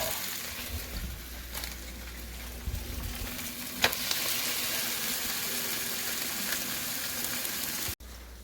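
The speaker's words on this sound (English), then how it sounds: "Heat your ham up on a hot pan." Ham sizzles steadily in a hot pan, a dense continuous frying hiss with faint crackles and a single sharp clink partway through, close by and with no talking.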